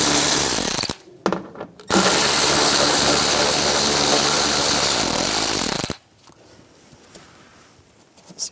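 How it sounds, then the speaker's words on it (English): A power tool with an 8mm socket removes door hinge bolts on a 2011-2018 Ram 1500, giving loud bursts of whirring, a short one and then a sustained run of about four seconds, before it stops and leaves quiet handling noise. "Using an 8mm socket, we're going to take these bolts out."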